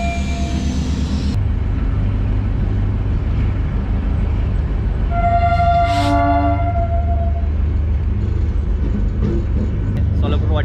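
Train on the Ahmednagar to New Ashti railway line, a loud steady rumble of the moving train throughout with a brief horn-like tone in the middle.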